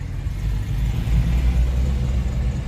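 A manual car engine labors uphill in first gear, a steady, low, close rumble that swells slightly in the middle with no voices over it.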